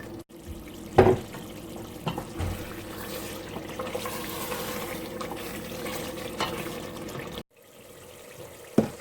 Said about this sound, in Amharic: አሁን ውሃ ከልሳለሁ። የሞቀ ውሃ አለኝ።